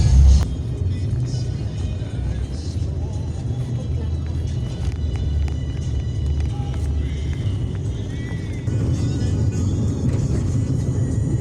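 A van driving along a provincial road, heard from inside as a steady low rumble of engine and road noise that runs throughout, with people talking faintly over it.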